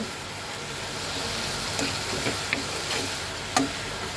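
Vegetables sauté in a pan with a continuous close sizzle and hiss, broken by a few small ticks and clinks of a spoon stirring against the pan.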